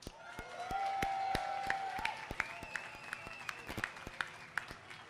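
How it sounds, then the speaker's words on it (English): Audience at a Stampede community breakfast in Alberta breaks into a sustained round of applause, dense clapping that swells and then thins into scattered sharper claps. "How about a big round of applause for our Stampede royalty and all of the volunteers"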